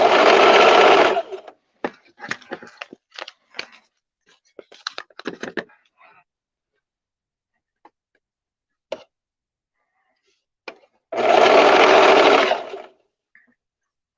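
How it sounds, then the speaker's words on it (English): A sewing machine stitches fabric for a skirt in two loud, close bursts of rapid stitching, separated by a stretch of quiet clicks and soft handling noises. "I hope you all are enjoying the sewing machine"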